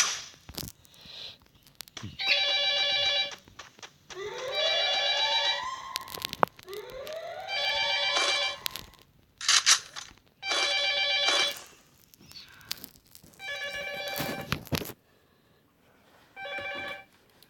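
A telephone rings repeatedly in bursts of bright electronic trills, some rising in pitch, with short pauses between, close and clear before the call is answered.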